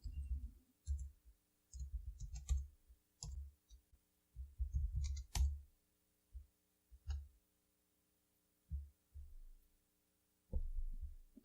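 Computer keyboard keys tapped while entering a terminal command, in irregular short bursts of clicks separated by pauses, quiet and close with a steady background hum.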